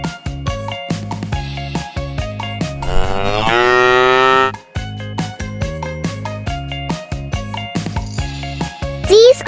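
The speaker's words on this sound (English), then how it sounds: "These are the cows who give us milk to drink." A cow moos in a few long, drawn-out calls set against a bouncy children's music track with a steady beat and chimes.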